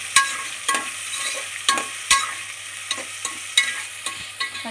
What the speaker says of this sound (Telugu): ఇప్పుడు మనం ఆనియన్ వేసుకున్నామండి. ఇది గోల్డెన్ కలర్ వచ్చే వరకు బాగా ఫ్రై చేసుకుందాం.